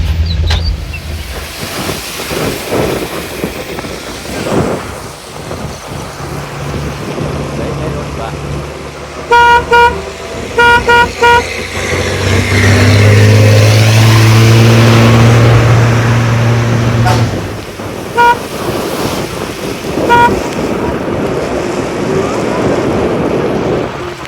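A lorry rumbles past on the Thimbam mountain road with a burst of loud, repeated horn toots midway, over continuous engine and road noise while a person talks throughout.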